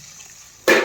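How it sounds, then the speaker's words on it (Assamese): Water poured into a cooking pot while fish is being cooked, a quiet room giving way to a sudden short, splashy rush of pouring that is loud and close. "পানী দিলোঁ আৰু পানী অকণমান দিলোঁ"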